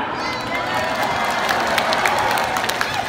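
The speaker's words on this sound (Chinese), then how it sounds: "山腰上的掌声欢呼声比较大声。" Large arena crowd at a concert at Mohegan Sun Arena, applauding and cheering from the upper seats, a dense continuous roar of clapping and shouts that holds steady throughout.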